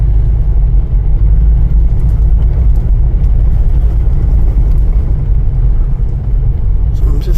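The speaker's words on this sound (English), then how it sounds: "I did not know that it was a gravel road that's pretty washboard" A car crawling slowly along a washboard gravel road on the way to Fleener Chimneys at Lava Beds, a steady loud low rumble and road roar with continuous vibration throughout.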